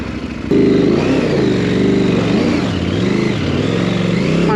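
A motorbike engine held at low revs while climbing a rough trail, loud and close, chugging steadily with small surges and dips in pitch throughout.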